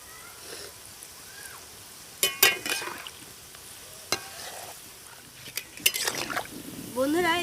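Khasta potol biscuits made from flour frying in oil on low heat, a soft steady sizzle with sharp clinks of utensils and stirring, under someone talking.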